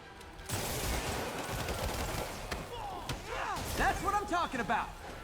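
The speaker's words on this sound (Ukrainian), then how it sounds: "Нормально він так стріляє." Bursts of video game gunfire in Marvel's Spider-Man crackle repeatedly over a busy, noisy battle mix, with sharp shots and rising and falling tonal effects.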